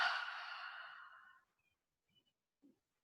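A full, audible exhale during a yoga flow, a close breathy sigh lasting over a second before trailing off into near silence with a couple of faint small sounds.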